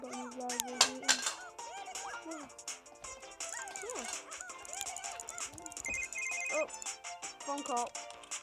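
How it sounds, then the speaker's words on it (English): A phone ringtone for an incoming call chimes in melodic bursts amid lively talk and children's voices, with a dog barking briefly in the background. "Phone call."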